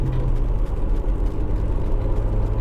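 Steady low rumble and whir inside a Suzuki Grand Vitara 1.6 SZ4 three-door on the move, a quiet cabin with very little wind noise, continuous and even throughout.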